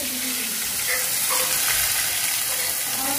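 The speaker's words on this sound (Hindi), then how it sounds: "हींग को डालने के बाद से तड़का हमारा चटक रहा है" Chopped onion sizzling and frying in hot oil for an Indian tadka tempered with asafoetida, a continuous loud crackling hiss with small pops, close up, with no talking.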